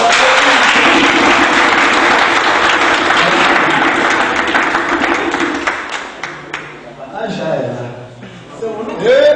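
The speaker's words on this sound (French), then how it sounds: "Il faut applaudir pour lui." Audience applause at a French-speaking event, loud and sustained dense clapping for about six seconds, then thinning into scattered claps and murmuring voices before a brief swell at the end.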